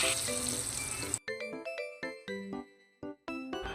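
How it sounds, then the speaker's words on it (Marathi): Hot oil tempered with mustard seeds and curry leaves is poured out, giving a brief loud sizzle followed by a few sharp, ringing clinks of a metal pan or spoon. "मी थोडंसं तेल घेऊन त्याच्यामध्ये राई आणि कढीपत्ता चांगला व्यवस्थित तडतडला घ्यायचा आणि फोडणी ओतायची आहे"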